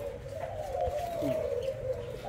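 Large Thai spotted doves for sale give a steady, fairly loud cooing call, a low continuous hum-like tone running throughout with a brief warble partway.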